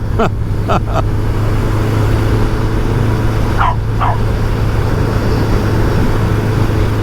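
A dog rides along in a BMW K100LT motorcycle sidecar and gives a few sharp barks, two near the start and a pair in the middle, over a constant loud engine and wind drone.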